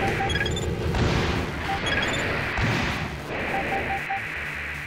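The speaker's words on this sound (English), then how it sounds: "They're actually shooting missiles!" Missiles launched and exploding in the video game Armored Core 1, dense rumbling booms and blasts rolling continuously with beeping alert tones overhead.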